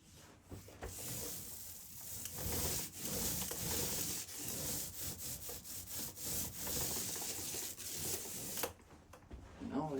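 A 9-inch paint roller spreads a first coat of paint across a wall, a close, continuous rubbing and sticky rasping that rises and falls with each stroke, without talking.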